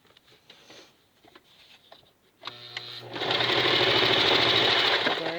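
A Kenmore model 1551200 straight-stitch and zig-zag sewing machine starts up after a quiet stretch with faint handling noises, then stitches light-colored thread with a loud, fast, steady mechanical whir and patter.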